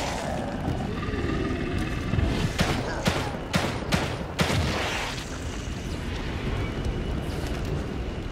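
Shotgun blasts in The Evil Within 2: several sharp, loud reports come in a rapid cluster midway through, over a constant rumbling game backdrop.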